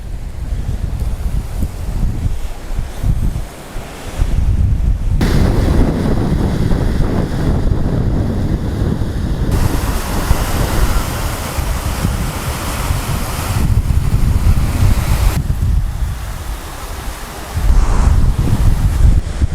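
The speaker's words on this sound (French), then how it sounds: "le ruisseau de Fontparazol qui se jette dans l'Orbiel avec un débit plus important que d'habitude" A stream in flood, the Fontparazol, pours into the Orbiel river at Conques-sur-Orbiel, making a loud, continuous rushing of water with bursts of wind buffeting the microphone.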